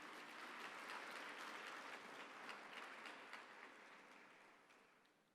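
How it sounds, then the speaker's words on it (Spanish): A church congregation applauds during a sermon, a dense, faint wash of many hands clapping that holds steady and then gradually fades away. "Dele fuerte ese aplauso al Señor."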